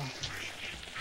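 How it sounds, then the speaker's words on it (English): Brief video-game ducks quacking amid a noisy, hissing game soundscape, the quacks soft and somewhat distant. "Ducks!"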